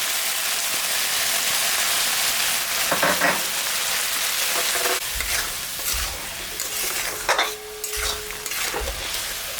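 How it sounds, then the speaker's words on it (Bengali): Ginger, cumin and dried and green chili paste with salt and turmeric frying and being stirred in a pan, a steady close sizzle with intermittent scraping strokes of a utensil, no talking. "মশলাটা আগে একটু ভাজে নিলাম,"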